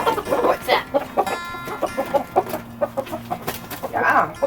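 Backyard chickens cluck and murmur close by in short repeated bursts while being fed kitchen scraps, with a few louder squawks near the end.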